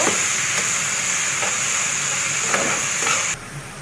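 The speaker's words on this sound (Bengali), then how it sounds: "শাকের সাথে খাওয়ার জন্য আমি শুকনো মরিচ ভেজে নেব।" Dried red chillies frying in a pan for radish greens: a loud, dense, continuous sizzle and hiss close by that cuts off abruptly near the end, with no talk.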